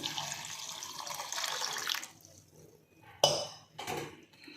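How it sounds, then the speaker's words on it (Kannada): Water is poured from a glass into a pot for boiling with ginger, amla, mint and ajwain: a gushing splash for about two seconds, then a pause, a sharp clink and a second short pour. "ಒಂದು ಎರಡು ಗ್ಲಾಸ್ ಆದಷ್ಟು ನೀರು ಹಾಕ್ತಾಯಿದ್ದೀನಿ"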